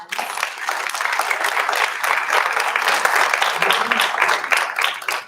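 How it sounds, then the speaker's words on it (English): An audience at a culture festival applauds a Middle Eastern dance troupe, a dense, even wash of clapping that holds steady for the whole stretch, full and close with no voices over it. "Please give them a round of applause."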